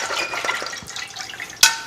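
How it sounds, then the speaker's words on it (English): Seaweed and its soaking water tip into a colander, giving a soft trickling pour that ends in a sharp splash near the end, close by with no talk. "So I'm going to pour this in a colander."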